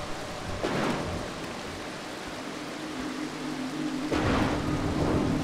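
Thunder and rain in the stealth video game Mark of the Ninja: a constant hiss of rainfall with two deep rumbling thunder swells, one early and a louder one near the end.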